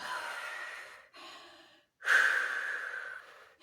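A voice imitates the slow, heavy mechanical breathing of a dark masked, armored figure: two long rasping breaths, a shorter pause between, close and fairly soft.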